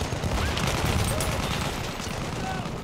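Gunfire in the video game Battlefield 1, a dense, continuous rattle of shots and distant blasts filling the whole stretch at steady loudness, with a voice talking over the battle noise.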